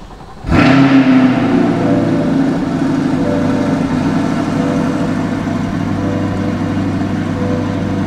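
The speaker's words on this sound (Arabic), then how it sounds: "تعالوا نشغل السيارة" A new Chevrolet Corvette with a metal targa roof starts with a sharp, loud crank and rev, then settles into a steady, deep rumbling idle that holds close and unbroken for several seconds.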